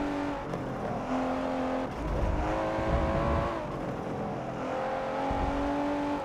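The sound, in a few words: Liberty Walk Nissan GT-R engine snarling, from Forza 7 video game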